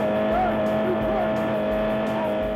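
A stuck car's engine revs hard and steadily as its tyres spin and squeal in place, loud and continuous, with a low pulsing rumble underneath.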